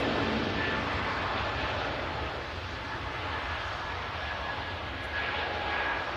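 A Scandinavian airliner takes off from the second runway at Manchester Airport, its engines a steady, broad roar heard from a distance that holds constant throughout.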